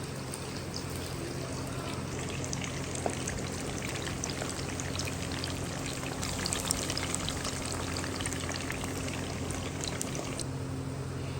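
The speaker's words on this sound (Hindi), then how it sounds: "अब इसमें चिकन ऐड करके चिकन को फ्राई कर देंगे।" Pieces of chicken fry in hot oil, a dense, even crackling hiss holding steady throughout, close and moderately loud with no voices.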